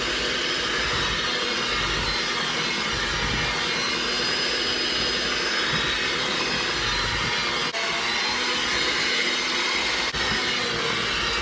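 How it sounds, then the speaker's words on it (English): Electric mixer beating flour into potato chip cookie dough, a steady whirring motor drone that runs continuously at even volume, with a couple of faint knocks and no speech. "Mix until it's nice and well incorporated."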